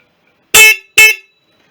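Two short, loud horn blasts from a BSA B31 motorcycle in quick succession, close by, bright and brassy, with silence around them.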